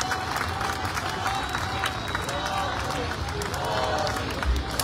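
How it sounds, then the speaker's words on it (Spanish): Crowd applause at a political rally in Mexico, broad clapping and some cheering that runs steadily throughout, fairly loud, with voices in the crowd beneath it. "Regáleme un fuerte aplauso para Xóchitl Gálvez, por favor"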